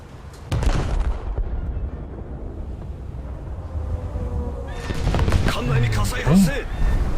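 Naval gunfire aboard the battleship Kongo in a video game, a sharp heavy report followed by a long rumbling decay, then a cluster of further blasts and mechanical clanks, with a voice speaking over it.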